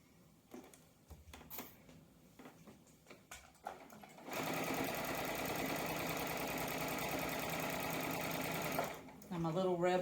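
A sewing machine stitches a quilted door banner on a cutting board, running in one steady, loud whir of about five seconds after some quieter handling and rustling.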